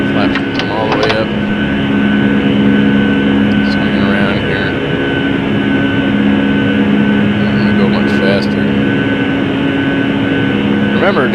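Jet engines of a Quality Wings 757 in a flight simulator drone with a steady, loud hum and sustained tonal whine, constant throughout under occasional faint clicks.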